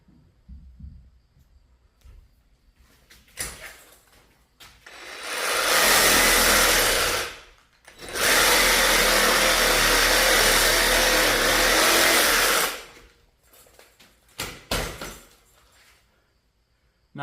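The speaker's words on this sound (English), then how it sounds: "we're gonna take our Sawzall and just cut it free from the hindquarters" A Sawzall reciprocating saw cuts through a whitetail deer carcass, freeing it from the hindquarters during home butchering; two loud, sustained bursts of harsh buzzing with a short pause between, plus quieter handling sounds before and after.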